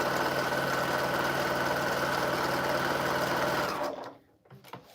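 A sewing machine stitches a quilt in a fast, steady mechanical whir close by, then slows and stops near the end, leaving a few faint clicks.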